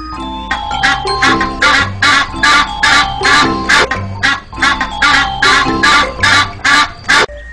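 A flock of geese cackles loudly in quick, repeated honking bursts, one call after another with barely a pause.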